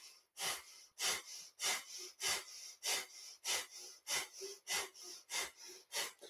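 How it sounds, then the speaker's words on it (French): Kundalini yoga breath of fire: rapid, forceful nasal exhalations pumped from the navel, about eleven sharp sniffing bursts in steady rhythm, close and fairly quiet, with no talking. "on vient vraiment nettoyer le sang grâce à la respiration de feu"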